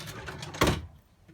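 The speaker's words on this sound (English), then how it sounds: "pull them out of the drawer" A tray slides out of an RV drawer with a brief rubbing scrape and a soft knock, quiet and close, followed by near silence.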